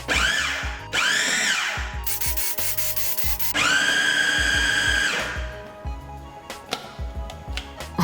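A food processor grinding a beef nugget mixture whirs in loud bursts, starting and stopping several times with rising and falling pitch, no voices.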